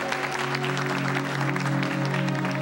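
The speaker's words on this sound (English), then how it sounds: "Cameron and Trent, big round of applause for these guys." A crowd applauds two people after they have their heads shaved for charity, with steady, dense clapping that holds loudly for the whole stretch and no voices over it.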